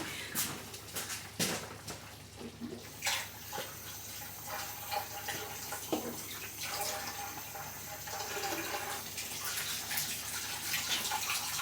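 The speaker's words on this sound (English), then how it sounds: "Let me wash my hand." Tap water runs while hands are washed at a kitchen sink, a steady close splashing stream with occasional knocks and clinks and no talking.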